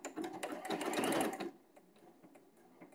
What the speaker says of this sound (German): Jetzt vernäht sie das, schneidet den Faden ab und fertig.